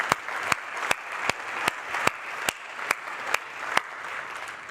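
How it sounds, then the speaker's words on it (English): An audience at a wood conference in South Africa applauds in a steady wash of clapping, with sharp louder claps popping out at regular intervals. "a big applause also on your side."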